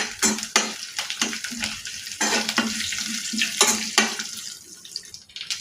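Tempering spices sizzle in hot oil with black gram dal, dried red chilli, curry leaves, cumin and garlic, for an okra fry; a close, steady crackle runs under repeated spoon-against-pan stirring clinks and scrapes.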